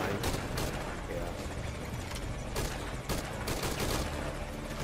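Dense, continuous gunfire from the Metal Gear Solid V video game, bursts of rapid shots rolling together with no pauses, loud and close throughout.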